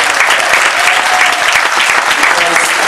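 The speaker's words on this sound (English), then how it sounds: "give yourselves a big round of applause" A college graduation audience applauds families in a steady, dense wash of clapping that fills the hall without pause, loud and even throughout.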